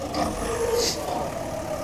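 Steady, continuous engine drone of a bus with air-brake style hiss, running at idle throughout, loud and near, with a brief higher hiss mid-way and faint voices underneath.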